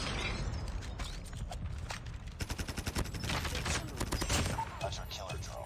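Bizon submachine gun firing in Call of Duty Mobile, with a rapid burst of regular shots standing out in the middle of the clip amid mechanical clicks and other game noise, and a voice talking over it.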